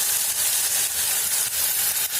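Water poured into a hot pan of spiced cauliflower for fulkopi fuljhuri sets off a steady, loud, close hiss of sizzling that runs unbroken with faint crackling pulses, no voices.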